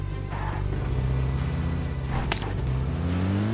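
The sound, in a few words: car driving in a video game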